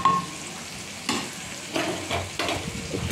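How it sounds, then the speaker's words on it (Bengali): Khichuri bubbles and sizzles in a hot pot as slit green chillies are tossed in, a steady low simmer broken by several sharp, hissing bursts as ingredients hit the pan. "খিচুড়িটা ফুটছে। এরপর আমি কাঁচা লঙ্কা চিড়ে কতগুলো কাঁচা লঙ্কা দিয়ে দিলাম।"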